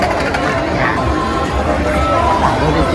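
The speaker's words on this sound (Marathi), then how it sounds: "मित्रांनो ही अशी गर्दी आहे भाविक भक्तांची बघू शकता" A dense crowd of devotees packs the Ratneshwari palanquin procession, producing a continuous close murmur of many overlapping voices and shuffling with no single clear speaker.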